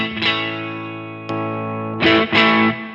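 An electric guitar played through a Wampler Germanium Tumnus overdrive pedal rings out as a sustained, lightly driven chord. A few fresh strums and a sharp pick attack follow, with a mild crunch.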